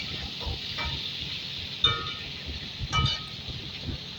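Torn dried red chillies stirred in a pan for a fish curry, heard as a soft, faint sizzle with two brief scraping clinks of the utensil; no voices.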